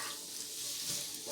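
Chopped onions, a little under half a cup, fry in hot oil for an Afghani Kabuli pulao, making a steady, dense sizzle that stays even and close throughout.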